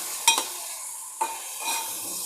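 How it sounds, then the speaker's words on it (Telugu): A spoon stirs yogurt into bitter gourd curry in a hot pan, giving a few sharp scrapes against a soft background sizzle, close and without talk. "పెరుగు యాడ్ చేసుకొని ఇలా కలుపుకుందాం"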